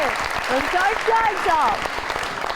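A studio audience on a talk show gives a guest a warm round of applause, sustained clapping running under a voice that speaks over it.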